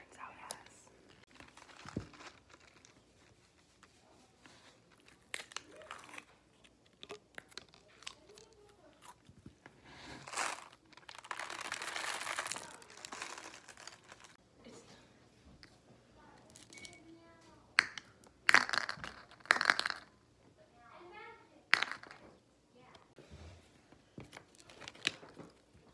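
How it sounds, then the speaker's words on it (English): Soft squishing, clicking and crackling as small beads are worked into slime, close up and intermittent, with quiet bursts of louder crunching. "Now we're gonna mix these beads with slime and see what that turns out as."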